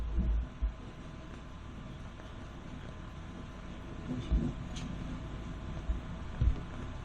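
A Polish PKP train runs on the rails, giving a low, steady rumble with occasional soft thuds and knocks from the wheels and carriage.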